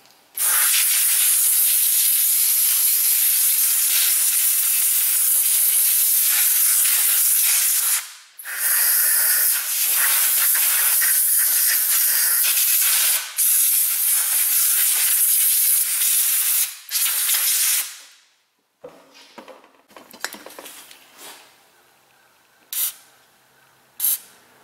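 Aerosol rust inhibitor such as Krown or Fluid Film sprayed onto the rear drum brakes of a Honda Ridgeline, long loud hissing bursts with brief pauses, then short scattered puffs near the end.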